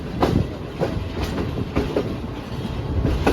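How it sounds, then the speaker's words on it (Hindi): Train rolling into platform 4 at Rohri junction, a loud close rhythmic clickety-clack of wheels over rail joints with rumbling carriages beneath. "रोडी जंक्शन प्लेटफॉर्म नंबर 4 पर पहुंच रही है हमारी ट्रेन"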